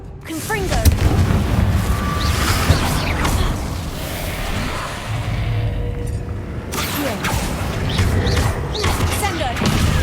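A Confringo fire spell blasts in the Hogwarts Legacy game, loud booming bursts with rumbling crackle and mechanical creaks, repeated through the stretch amid game effects.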